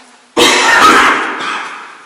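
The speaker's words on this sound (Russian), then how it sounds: "мой муж не может не кашлять" A man gives a single harsh, close cough that trails off into a rougher, fading breath.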